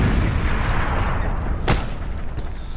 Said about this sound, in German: Hier explodiert es mächtig gerade.